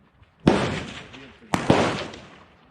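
Two loud, close rifle shots from a 6 Creedmoor rifle fired outdoors, about a second apart, each with a sharp crack and a long rolling echo.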